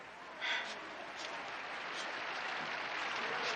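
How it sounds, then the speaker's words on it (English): Applause and laughter played back from a tape recording at a party, heard as a steady, dense wash of crowd noise throughout with a brief louder swell near the start. "A tape recording of just applause and laughter?"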